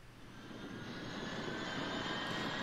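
A Boeing 777 jet engine spools up during engine start in X-Plane 11, a steady, rising roar that swells and holds, with no voices over it.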